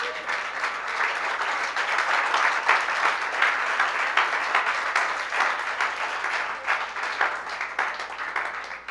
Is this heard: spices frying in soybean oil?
no